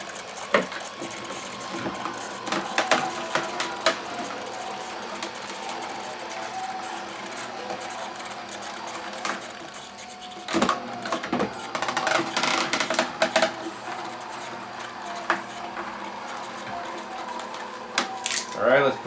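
A juicer runs steadily while chard leaves and carrots are pressed through it, a continuous mechanical whir with scattered clicks and clatters, under occasional talk.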